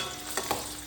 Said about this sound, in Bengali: এখন তেলটা গরম হয়ে আসছে, এখন ভেজে নেব।